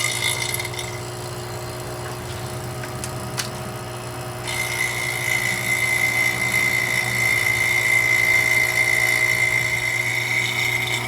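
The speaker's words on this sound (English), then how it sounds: "I'm going to connect the yellow line to the vacuum pump." Vacuum pump evacuating the AC system of a 2002 Mitsubishi Lancer during receiver drier replacement: a steady, loud mechanical drone with a constant high whine that steps up in level partway through and then holds, with no talking.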